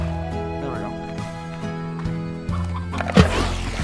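Chickens and roosters in the video game Slime Rancher cluck and gobble in a steady barnyard chorus, with a sharper squawk near the end over continuous background sound.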